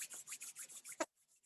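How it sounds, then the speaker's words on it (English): Hands rubbing together gently produce soft, close swishing strokes in a steady rhythm of about seven passes, ending with a slightly firmer brush before falling quiet. "very, very gently rubbing your hands together"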